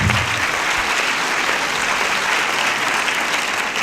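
A large cinema audience at the Capitole bursts into loud, sustained applause at a screening of the film "De la cuisine au parlement", dense and even, filling the room for several seconds with no one speaking.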